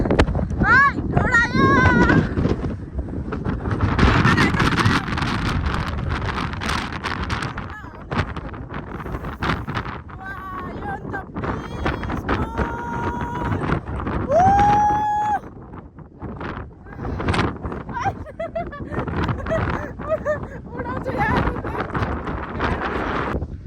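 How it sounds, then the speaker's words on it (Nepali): Cold wind gusting across the microphone on a mountain outing, a loud continuous rumble and buffeting throughout, with sharp clatters, someone's voice and brief whistling tones mixed in. "अब चाहिँ लास्टै चिसो हावा"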